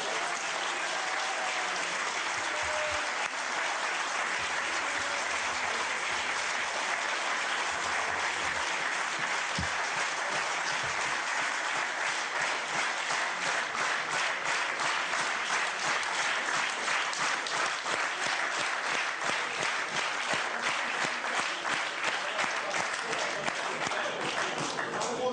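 Long, unbroken applause from a gathering of socialist senators approving a candidate for Senate President by acclamation, steady and dense for over twenty seconds, with faint voices mixed in.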